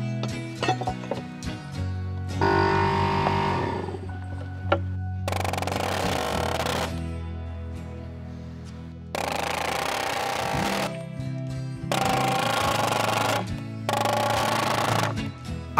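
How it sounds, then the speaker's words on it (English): Simpson timber screws driven through a deck ledger into a cabin's framing, heard as several loud, sustained bursts of an impact driver's rapid hammering, each lasting a second or two with short pauses between, close by and without talk. "I'm using some Simpson timber screw to secure the ledger to the cabin."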